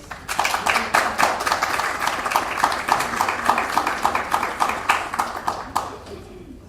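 A modest audience claps to welcome a speaker at a winter school event: individual hand claps in a brisk rhythm, fairly close, that keep going for several seconds and then taper off.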